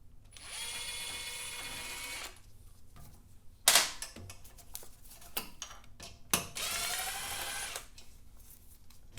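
An impact wrench on a low setting works bolts on a Honda CB750 engine during removal from the frame: two sustained whirring bursts separated by sharp metallic clanks and clicks, close up, with no talk.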